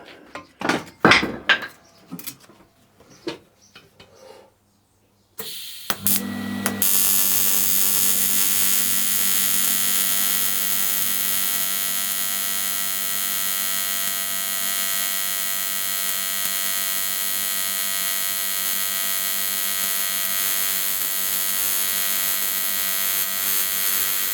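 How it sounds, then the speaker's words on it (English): Welding on a worn Honda CR 125 motorcycle swing arm: a few metallic clanks and taps, then a continuous, close, buzzing arc that runs unbroken to the end. "It's still warm, so it'll not take much to weld that."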